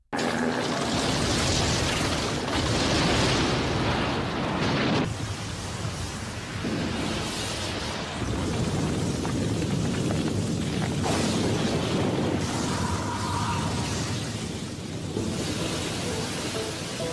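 A Bankai release blast in Anime World Tower Defense, a Bleach-themed game: a dense, roaring explosive burst that rumbles loud and steady, then rolls on in surging waves of noisy energy for many seconds without pause.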